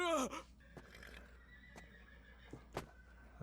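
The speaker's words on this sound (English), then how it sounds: "horses are freaking out, eh?" Horses whinny in a Vinland Saga anime episode, opening with one loud, falling neigh followed by fainter snorts, clip-clops and scattered thuds under a quiet background.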